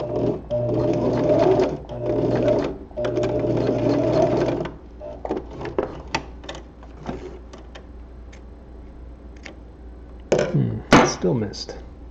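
A sewing machine stitches spandex gloves in several steady whirring runs, close and fairly loud, broken by pauses, followed by scattered clicks and handling noises.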